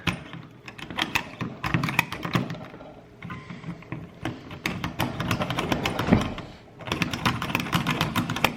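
A roughly 100-year-old hand-cranked pencil sharpener grinds a full, unsharpened pencil, giving a close, steady run of rapid dry scraping clicks that pauses briefly midway and then starts again.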